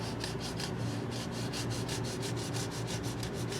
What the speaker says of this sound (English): these StewMac polishing cloths work really good